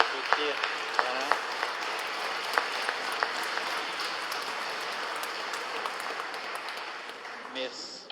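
A church congregation applauds during a Mass for the feast of Saint Rita in Nice, moderate clapping that lasts several seconds and gradually thins, heard at some distance in a reverberant space.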